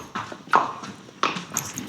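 Hooves of a horse being ridden clip-clop on the ground in a few distinct, spaced strikes, moderately close, with soft movement noise in between.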